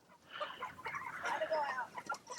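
Chickens on a farm clucking and chattering close by in short overlapping bursts, fairly faint, with a person speaking softly among them.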